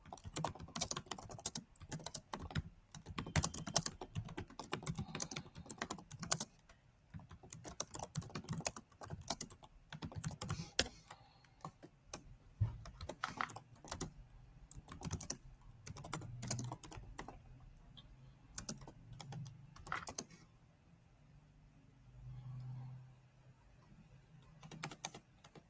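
Keys clatter in quick, uneven bursts on a computer keyboard as a prompt is typed, close and fairly quiet, with short pauses between runs of keystrokes and no talking.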